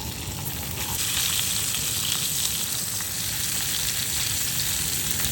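Conger eel frying slime side down in a pan, a loud, steady crackling sizzle that runs evenly from start to finish, close by and without talk.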